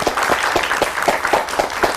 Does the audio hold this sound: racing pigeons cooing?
no